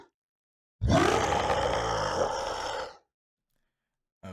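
A monster vocalization made from human screaming pitched down an octave: a single deep, growling roar lasting about two seconds, close and full, alone against silence.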